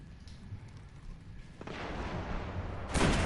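Gunfire and heavy weapon blasts rattle in a Destiny multiplayer match, starting as distant muffled shots and swelling into louder, denser bursts with a sharp boom near the end.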